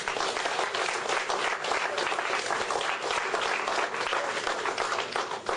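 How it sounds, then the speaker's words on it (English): Dense, continuous applause from an audience honoring speakers on stage, a full wash of many hands clapping at once, steady and loud with no break. "Let's give these gentlemen a round of applause."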